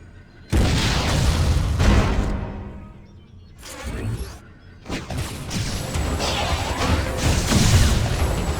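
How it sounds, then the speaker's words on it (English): A missile blast in Metroid Other M lands as a loud, heavy boom with crashing debris, then tails off. A second strong burst follows a few seconds later and rumbles on steadily to the end. "Why not say hello with a missile?"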